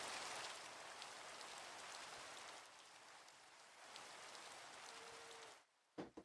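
Video-game rain with a custom Cool Rain mod sound hisses steadily and softly as an even wash of droplets on surfaces, then cuts off abruptly near the end, followed by a couple of faint clicks.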